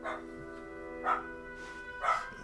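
A puppy gives three short, high yipping barks about a second apart, close and fairly loud over a steady humming background.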